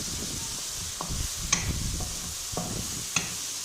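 Roasted eggplant is stirred into a frying tomato-onion masala: a low sizzle under repeated spoon scrapes and a couple of sharp clinks against the pan, close and steady.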